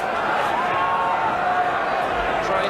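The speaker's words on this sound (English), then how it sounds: "the crowd getting their voices" A football crowd at Grimsby Town's ground during an F.A. Cup fourth-round tie against Watford chants and cheers in a dense, continuous roar, with some voices rising in sustained tones and a commentator talking over it.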